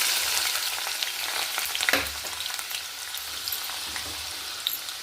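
Onion pieces frying in hot oil in a home kitchen, a continuous bright sizzle with crackling pops, loudest around the middle and then settling into a steady hiss.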